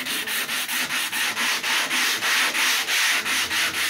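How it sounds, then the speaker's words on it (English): Fine sandpaper lightly scrubs dried, brittle glue off a guitar fretboard during a Guild S-60 3/4 restoration. Steady back-and-forth strokes repeat evenly and close up for several seconds, with no voices. "I'm only lightly sanding this because I don't want to put any more shape or concave or anything into it"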